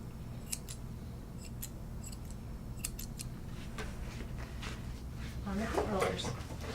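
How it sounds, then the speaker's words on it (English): Grooming scissors snip a Shih Tzu's coat in quick, light clicks, a few scattered cuts near the mic over a steady low room hum, with a brief voice-like sound near the end. "practice your scissoring so that you can maintain that tubular look"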